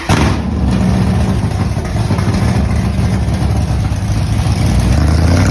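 A classic Chevrolet Chevelle drag car with a fuel-injected engine runs loud and close. Its deep, rough idle rumbles steadily throughout with slight swells, and no one speaks.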